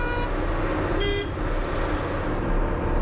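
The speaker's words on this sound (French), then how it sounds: "il me double en plein virage" A vehicle overtakes on a bend of a road in Guinea, heard from inside a converted camper truck: a loud, close engine and road rumble with brief horn toots, steady throughout.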